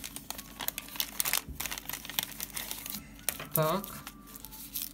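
Crinkly plastic rustling as a zip-lock bubble-wrap pouch holding sunglasses is handled and pulled open, close and fairly loud, with brief talking over it.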